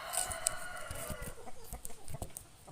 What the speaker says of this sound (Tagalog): Tayo ay magpapakain na ng aming mga alagang manok.